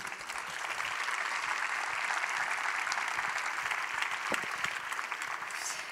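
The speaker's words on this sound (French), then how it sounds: "Je vous demande de les applaudir, s'il vous plaît." An audience applauds guests at a talk on social, environmental and climate crises, a dense, steady wash of clapping sustained for the whole stretch with no voices over it.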